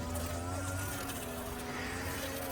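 A brush cutter engine drones steadily while cutting weeds and kudzu vines along a fence, a faint, even motor hum with no break in its pitch.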